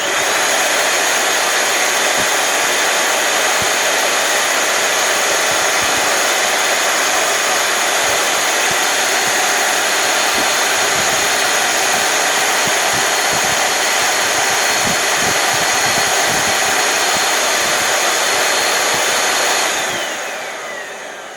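A repaired Bissell Powerforce Turbo vacuum cleaner motor runs with a loud, steady whining roar and airy hiss for about twenty seconds, then begins to wind down at the end.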